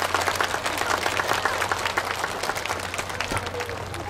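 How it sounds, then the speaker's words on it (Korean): A large outdoor crowd applauds three performing teams at the opening ceremony of the 2008 Hanseong Baekje cultural festival in Songpa, a sustained, dense roar of clapping over a low background hum. "수고해주신 세 팀에게 여러분 다시 한번 큰 박수를 부탁드립니다."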